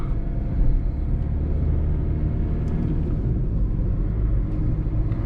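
A steady low rumble fills the cabin of a 2012 Skoda Rapid 1.6 TDI Ambition while it drives, a loud continuous road and engine drone with no voices.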